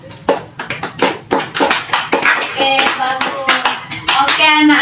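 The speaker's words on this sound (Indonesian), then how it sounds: "Ayo kasih aplaus untuk temannya yang sudah berani." Children in a classroom break into brisk applause for a classmate, a loud patter of many small hands clapping together, close by, while a voice speaks briefly over it.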